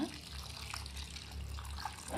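Water pours steadily into a pan of powdered jaggery, a soft continuous splashing stream with a faint low hum underneath.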